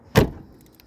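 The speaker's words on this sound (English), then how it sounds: "I'm just going to close this door gently." A Range Rover Classic Vogue LSE, a rusty restoration project, has its car door pushed shut gently, giving one short, close, muffled thud that fades quickly into quiet.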